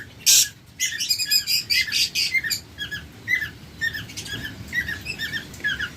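Pet lovebirds kept for sale chirp and squeak close by in rapid, shrill bursts with one harsh squawk at the start, a busy flock chatter that keeps going all the way through.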